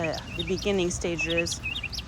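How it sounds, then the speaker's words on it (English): Loud bird calls ring out in quick, repeated bursts with pitch-sliding harmonic notes, close by. "This bird is very loud."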